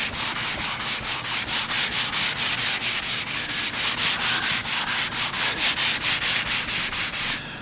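An old sponge rubs across charred shou sugi ban wood in steady back-and-forth strokes, a rhythmic close scrubbing rasp repeating about three times per second, loud and continuous with no voices.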